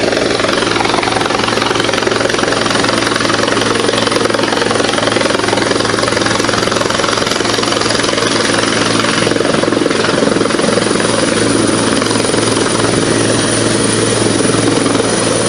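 A helicopter lands at a helipad in Senapati district, Manipur, its rotor and engine roar loud, close and continuous throughout with no break or talk.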